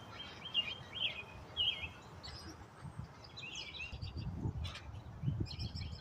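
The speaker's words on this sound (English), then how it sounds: "I don't know if you can hear them, but the birds are singing." Birds sing faintly on a farm on a spring morning, with scattered chirps and short warbled phrases over a steady low outdoor rumble and occasional nearby thuds.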